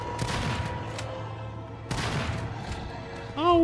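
Two sharp, booming gunshots in the survival horror video game Daymare: 1998, each firing loud and close and then ringing out. A voice rises briefly at the very end.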